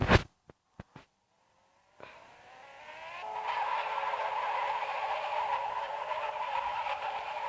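A few sharp clicks are followed by a repaired Honda car starting to accelerate during a speed test, its engine rising to a steady, high, strained whine with a faint squeal, heard alone without talk.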